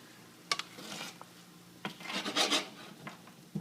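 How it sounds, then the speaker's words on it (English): A spoon stirs onions and meat in a pot for red borsch, giving a few close, rasping scrapes and rubbing strokes separated by quiet gaps, with no talk. "And I'll also go ahead and stir it just a little bit."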